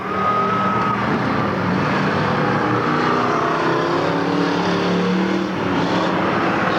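Race cars lap a dirt oval track at a weekly racing series in Watsonville, California, their engines roaring loud and continuous as they pass, with the sound swelling and fading slightly over the whole stretch.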